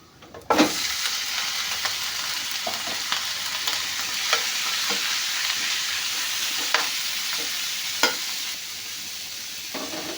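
Chicken feet fry in hot oil, a loud, close, steady sizzle that starts suddenly, with occasional sharp pops and spatula knocks scattered throughout.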